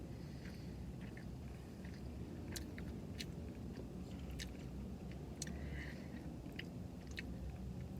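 Quiet, close chewing of a spicy Filipino beef empanada, a few soft crunchy bites and moist mastication sounds scattered over a steady low background hum, with no talking.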